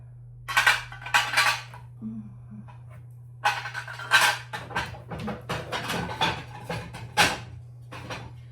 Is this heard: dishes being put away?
yes